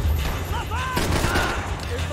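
Rapid gunfire from a shootout in the video game Max Payne 3: dense, overlapping bursts of shots crackle continuously at close range, with voices faintly mixed into the din.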